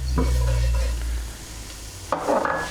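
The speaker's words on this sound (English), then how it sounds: "So soak up all of that olive oil and butter and then cook the flour through for about a minute." Flour cooking into a roux in olive oil and butter, stirred in a pan, giving a soft steady sizzle under a low hum, with a sharper scrape and stir of the spoon near the end.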